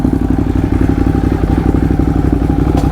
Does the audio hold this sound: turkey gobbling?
no